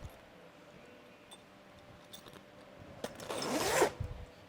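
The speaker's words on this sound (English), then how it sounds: "The zipper just comes together like it would on your jacket." A zipper is drawn closed along the corner of a Fiamma F45 camper annexe wall on a Jayco camper. One rising rasp builds to a loud burst near the end, with a soft thump after it.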